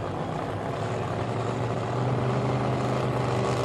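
Drag racing machines idling and creeping toward the starting line beams at the 1984 World Finals in Pomona, a steady low engine drone that holds constant throughout with no voices.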